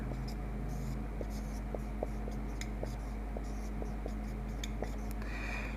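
Chalk or marker scratches out short strokes on a board during a chemistry lesson, faint and intermittent taps and scrapes over a steady low background hum, with no talking.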